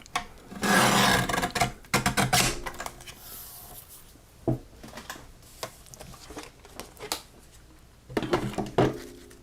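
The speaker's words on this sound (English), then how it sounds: "So I'm going to trim this card base down to 4." A paper trimmer slices a handmade card base in a few quick rasping strokes, close and crisp, then small scattered taps and shuffles of paper and tools on the craft table.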